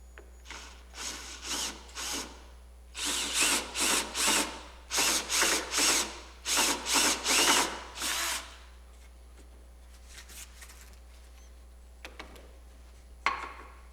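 A handheld power drill bores a compound-angle hole with a tapered cutter, running in short whirring bursts of about a second each with pauses between them, then falling quiet except for a few faint clicks near the end.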